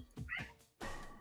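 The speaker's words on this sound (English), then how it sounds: "Heard that meow." A single cat meow, close and clear, rising then falling, followed by a brief pause and a second, longer meow-like cry.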